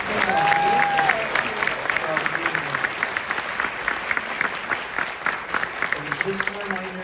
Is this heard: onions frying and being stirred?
no